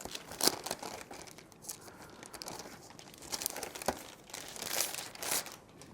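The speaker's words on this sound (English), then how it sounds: "We'll also go ahead and unbox the smart keyboard here" Packaging for an Honor Pad 8 smart keyboard crinkles and rustles in soft, irregular bursts close by, quiet and without speech.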